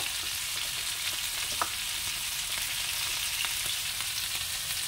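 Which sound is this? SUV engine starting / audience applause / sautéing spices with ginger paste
sautéing spices with ginger paste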